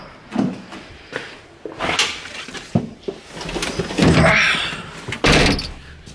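Someone climbs into a Scion FR-S and the car door shuts with a solid thunk, amid rustling, shifting and bumping sounds close by.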